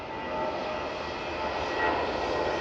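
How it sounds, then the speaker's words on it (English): Airplane on an airport taxiway at CLT International Airport, giving a steady, moderately loud broadband engine roar that swells slightly, with no talking. "that's a plane right there"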